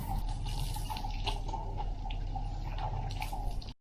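Water runs steadily from an opened tap by a resort swimming pool, a continuous splashing stream with faint dripping close to the microphone that cuts off abruptly at the end.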